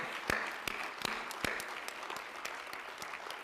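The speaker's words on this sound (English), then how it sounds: "would it be okay if we gave some applause to my mentor?" Sparse, quiet applause at a university presidential investiture ceremony, with individual hand claps sounding at irregular intervals over a soft background and only a few claps standing out sharply.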